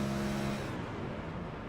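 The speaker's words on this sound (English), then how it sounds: "I feel like I just heard him clutch it in or turn the engine off." A race car at Homestead coasting with the clutch pushed in, the engine note dropping away from a hum into a softer rushing whoosh, fairly close and with no voices.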